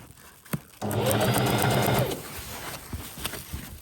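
Sewing machine stitching a curved seam on a cover for a Thermarest sleeping pad, a close, steady whirring run of about a second and a half framed by a few clicks and handling noises.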